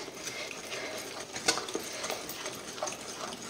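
Pineapple cake batter being stirred until smooth, soft scraping and ticking strokes of a utensil in a bowl, steady and fairly quiet with one brief louder knock midway.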